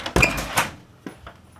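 A kitchen door in a house, entered from the backyard, opens with a loud clunk and rattle, then closes with softer knocks and clicks about a second later, close to the microphone and without speech.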